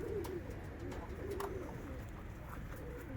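Young pigeons feed, giving soft low cooing and faint chirps at moderate distance, with light pecking and rustling sounds in a quiet setting.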